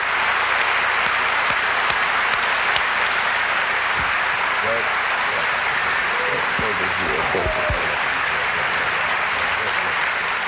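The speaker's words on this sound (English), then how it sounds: "I love the fake applause" Canned studio applause on a guitar instruction show rolls on as a steady, loud bed of clapping, with a few brief low sounds and a voice popping through briefly underneath.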